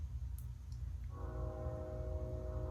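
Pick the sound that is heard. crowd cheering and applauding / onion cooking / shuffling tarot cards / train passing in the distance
train passing in the distance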